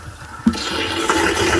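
A bucket filling fast with water flushed from a Rinnai tankless water heater during descaling, a steady loud rushing gush that begins with a sudden splash and continues alone.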